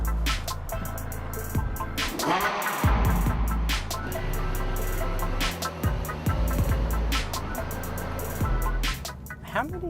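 A Ferrari drives through Hong Kong, its engine a steady droning hum with shifting pitch from inside the car, while people talk over it.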